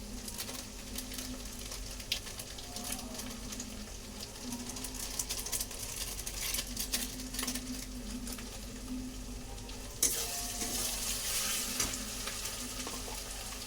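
Chilli powder and other ground spices sizzle steadily in hot oil in a frying pan, with a continuous crackling hiss and occasional stirring scrapes, close and moderately loud with no talking.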